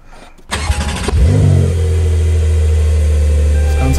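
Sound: Porsche 911 engine starting

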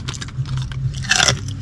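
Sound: crunchy food being bitten and chewed

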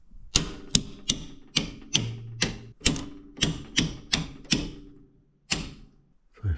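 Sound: circuit breaker switches being flipped off in a panel

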